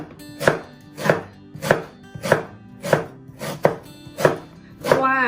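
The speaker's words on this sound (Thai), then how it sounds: "เราก็จะเอาสมุนไพรที่มีนะคะ มาหั่นเป็นท่อนเล็กๆ ก่อนนะคะไม่ว่าจะเป็นผักหรืออะไรอื่น" Herbs are cut into small pieces with a knife on a board: about eight crisp, evenly spaced chops, close and distinct, with no speech.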